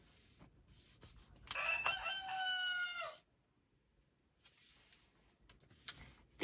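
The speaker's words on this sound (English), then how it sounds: "Can you crow like a rooster?" A rooster crows once, loud and drawn out, with a rising then falling call, followed by quiet farmyard background.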